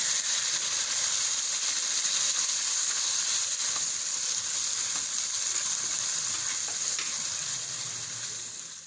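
Garlic ginger paste fries with dark-browned onions for daal mash, giving a steady, loud, close sizzle and hiss that holds unbroken and fades slightly at the end.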